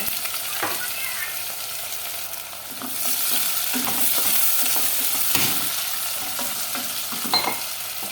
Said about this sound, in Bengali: তো এই তো আমার তেল গরম হয়ে গেছে, এবার আমি পেঁয়াজ দিয়ে দেবো।